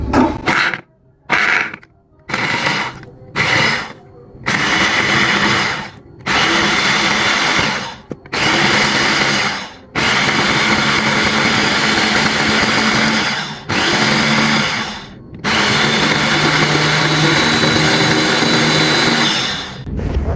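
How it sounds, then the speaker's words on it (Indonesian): An electric blender grinds spices for a tauco spring roll sauce. The motor whirs in several short stop-start pulses, then settles into long, steady, loud runs with only brief pauses. "Kemudian kita haluskan."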